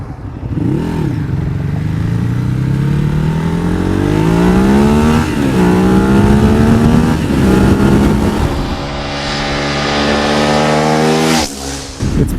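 A Ducati Hyperstrada motorcycle accelerates hard, its engine revving up and shifting through several gears in repeated rising sweeps, loud and close, before a short pause and a final burst.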